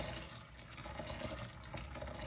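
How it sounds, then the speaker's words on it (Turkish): Hot water is poured into a pot of chickpeas and meat, a soft, steady watery rush heard faintly throughout. "bir bir buçuk tatlı kaşığı tuz ve sıcak suyumuzu ekliyoruz"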